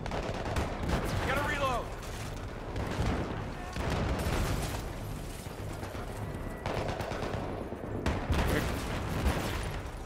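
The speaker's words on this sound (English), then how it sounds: "I hear a tank. There's a tank!" Battlefield combat with heavy weapons fire, repeated loud booming shots and bursts with rumbling explosions, including a tank firing, amid chaotic close-range battle noise.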